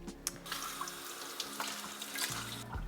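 Water runs steadily from a tap while a variegated string of hearts houseplant is watered indoors, a continuous splashing flow with small clinks near the start and end.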